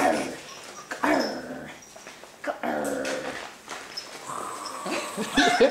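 A playful dog whimpers and yips in short, high bursts during a game of tug, with brief growly moments, close by and fairly loud, with occasional talking in the background.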